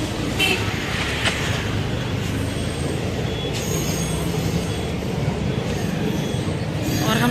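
Train rolling past a railway level crossing, a steady loud rumble of wheels on track with occasional high squeals and clanks, heard from close by amid traffic.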